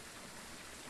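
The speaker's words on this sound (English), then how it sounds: "the rain actually works now?" Steady rain pours in the Phasmophobia video game, a constant dense hiss of falling water with no talk over it.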